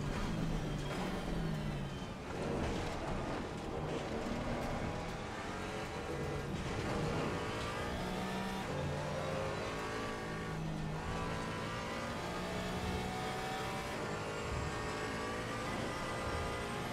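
A race car engine during a practice race, heard from inside or close by and droning loudly throughout, with repeated revving and shifting as other cars run alongside on the left.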